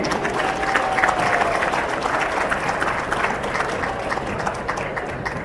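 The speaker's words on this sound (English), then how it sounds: "let's have another round of applause for all of our seniors and their families" Crowd in a high school gym applauding seniors on boys basketball senior night, sustained dense clapping at moderate loudness, with a voice on the public address briefly heard beneath it.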